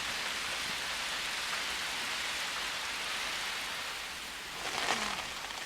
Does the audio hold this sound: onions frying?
no